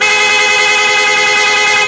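An aftermarket loud horn on a 2016 Yamaha Sniper 150 motorcycle blares in one continuous, harsh, multi-tone blast lasting nearly two seconds, loud and close with no talking.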